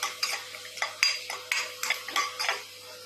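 Sweet kesari preparation: ingredients fried in ghee in a kadai, with a utensil stirring and scraping against the pan in repeated short clinks and scrapes, close and clear, no talk.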